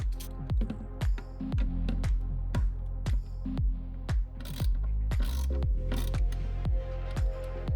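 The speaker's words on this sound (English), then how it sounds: "tighten the security bolt by hand before tightening it fully with a T40 Torx key" Security bolt on a Lone Rider MotoCase motorcycle case being tightened with a T40 Torx key, a rapid run of close, crisp ratcheting clicks, steady and evenly spaced throughout.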